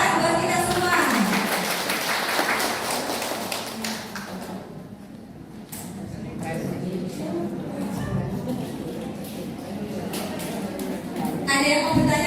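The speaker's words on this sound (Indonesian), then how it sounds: "Tepuk tangan buat kita semua." Steady applause from an audience at a financial and business literacy outreach session, continuous clapping holding at an even level for several seconds with voices chattering underneath.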